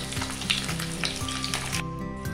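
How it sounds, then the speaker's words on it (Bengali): Pieces of katla fish fry in hot oil with a steady, close crackling sizzle throughout, dense bright spatter over a low background hum, with no voices. "এবার মাছগুলো ভেজে নিতে হবে।"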